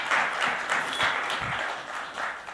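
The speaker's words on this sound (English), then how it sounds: "Big round of applause for him." Applause from an event audience for a new member of KEMA, a soft, steady patter of clapping heard at some distance and fairly faint, with no talk over it.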